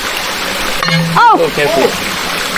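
A clear mountain stream runs over rocks on a forested hiking trail up Mt. Manabu in Batangas, a steady close rush of flowing water beneath a few brief exclamations from people nearby.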